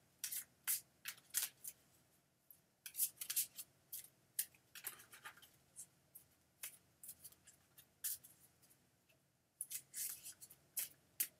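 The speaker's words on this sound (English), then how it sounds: "All right, we're shuffling." A deck of playing cards being shuffled by hand at a Rosh Chodesh gathering, repeated crisp riffling bursts in an irregular rhythm, close and fairly loud with no talk.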